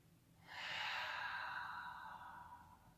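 A single deep, slow exhale during a yoga lunge, soft and close, rising and fading over a couple of seconds against a quiet room.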